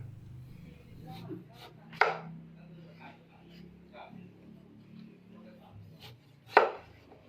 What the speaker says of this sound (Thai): เรามาหั่นมะนาวก่อนดีกว่าฮะ